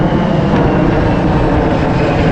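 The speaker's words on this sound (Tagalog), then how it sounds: "Ang daming aeroplano dito no?" Airplanes passing low over Changi Beach Park in Singapore, a loud, steady engine roar that fills the whole stretch without a break, close overhead, with no talking.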